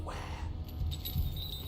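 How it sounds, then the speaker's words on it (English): Heavy chain dragged by the princess in the game Slay the Princess, a low rumbling scrape with a few metallic clinks rising and falling over under two seconds, quiet and muffled, with a faint voice underneath. "she scurries away into the underbrush, dragging her heavy chain behind her"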